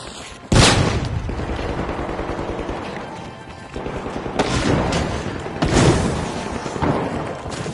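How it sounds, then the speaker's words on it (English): A flashbang grenade goes off in a video game, a sudden loud burst followed by further sharp blasts and a rumbling, ringing wash of noise. "Using a flashbang."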